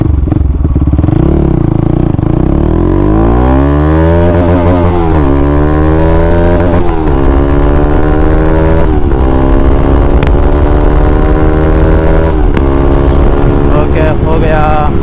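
A Bajaj Pulsar NS 200 motorcycle fitted with an Akrapovic exhaust accelerates hard through its gears, the engine note climbing in pitch, dropping at each shift and rising again, loud and close throughout.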